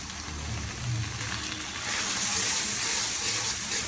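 Water rushes into a hot pan of frying spices and turmeric, a broad steady gushing hiss that swells louder halfway through and holds, with a faint sizzle underneath.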